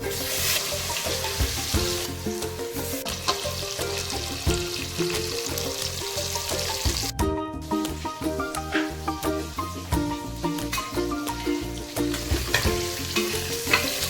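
Fish stirred with chili powder, garam masala, ginger paste and lemon in a pan for Godavari-style Andhra fish curry, a steady close sizzle with scraping strokes, briefly cut near the middle, with no talk.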